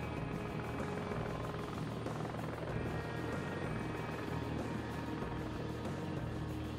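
A helicopter in the combat flight game Heliborne, set in Afghanistan's Khost Province, holds a steady, close rotor thrum with a low pulsing drone throughout and no speech.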